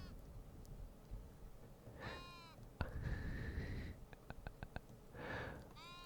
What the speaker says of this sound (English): A sheep has moved in.